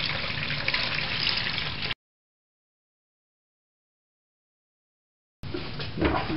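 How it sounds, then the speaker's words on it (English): Clean coolant poured through a funnel into a Ford Focus engine, a steady liquid gush for about two seconds, then a gap, then more pouring at the end. "I got my funnel there, I got my clean coolant here, so I'm just going to dump this into the motor."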